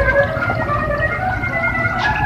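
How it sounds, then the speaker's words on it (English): Steady splashing of a small waterfall filtering a live-seafood tank at an Asian market, a continuous broadband rush of falling water with a faint hum beneath, close and unchanging. "a nice relaxing waterfall"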